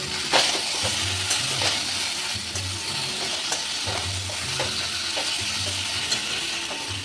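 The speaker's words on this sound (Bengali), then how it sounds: "এবার অল্প লবণ ছিটিয়ে সবগুলো একসাথে আর একটু ভেজে নেব" Diced eggplant and halved broad beans frying together with a sprinkle of salt, a steady close sizzle with repeated scraping stirs at an even rhythm, no talking.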